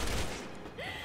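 A burst of gunfire in Resident Evil 6 while fighting zombies opens the clip loud and close, then drops back into a noisy game ambience.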